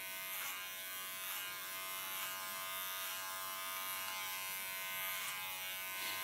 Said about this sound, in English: So now I can work this out with a clipper.